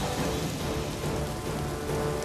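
Heavy rain pours down in rural Surat, Gujarat, a dense, even hiss of drops hitting surfaces nearby that continues without a break.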